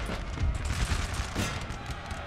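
Dense, continuous musket volleys from massed infantry during a siege of Madrid in Napoleon Total War, a rolling roar of overlapping shots with no clear gaps, loud and sustained.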